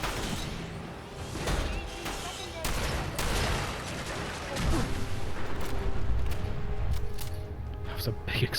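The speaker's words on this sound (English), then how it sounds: "That was a big explosion." Explosions and gunfire in a combat scene from the video game Fallout 4, including a pulse grenade, with rolling bursts and rumbling booms throughout, loudest toward the end, over a dense noisy battle mix.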